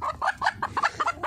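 Chickens cluck close by in a rapid, uneven run of short, loud clucks at a forest monks' retreat in Thailand.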